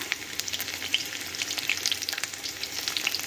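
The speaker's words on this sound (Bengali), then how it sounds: "এতে এবার কিছুটা রসুন দিয়ে দিচ্ছি, আর তার সাথে দিয়ে দিচ্ছি আদা" Garlic, ginger and chili sizzle steadily in hot mustard oil, a close, continuous frying crackle with spitting pops throughout and no voices.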